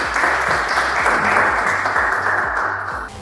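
Audience applause fills a room at an after-office-hours evening event as a speaker walks onto the stage, steady dense clapping throughout that tapers slightly at the very end.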